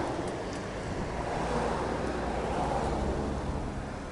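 Wind and waves wash steadily around a boat off Barbados, a continuous broad rushing roar with gusty buffeting, close and fairly loud, with no voices.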